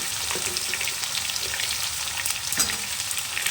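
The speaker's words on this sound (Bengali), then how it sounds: "আলুগুলো জাস্ট একটু ভেজে নেওয়ার পরে আমি কচুগুলো ভেজে নেবো একসঙ্গে দুটোকে ভাজতে থাকবো" Potato and taro pieces fry in hot oil, a dense continuous sizzle and crackle with occasional stirring scrapes, close and steady with no talk.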